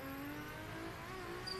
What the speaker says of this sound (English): I can literally just touch the accelerator and the turbo spools up